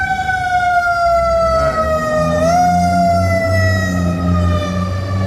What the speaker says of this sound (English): I'm gonna wait for the ambulance, fire truck, or whoever.